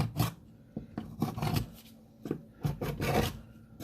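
Screwdriver scraping along a boat surface to mark a hole, a faint series of short rasping strokes in an uneven rhythm, close by.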